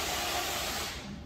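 Steady broadband hissing, like spraying or sanding in a workshop, fills the background and then eases off slightly near the end.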